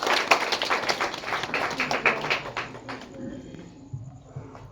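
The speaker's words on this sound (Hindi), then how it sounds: "जोरदार ताली बुलेट भाई के लिए।" Crowd applause at an outdoor political rally in honour of a local figure, dense clapping filling the first few seconds and then thinning out into scattered claps and background murmur.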